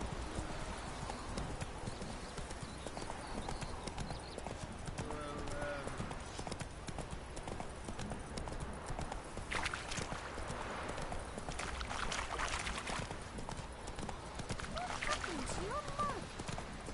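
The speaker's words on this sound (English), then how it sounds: "Caballo." Horse hooves clip-clop in The Witcher 3 video game, a steady, fairly quiet run of hoofbeats continuing throughout alongside ambient game sound, with a voice speaking intermittently.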